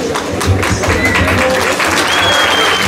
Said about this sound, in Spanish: Fortísimos los aplausos, por favor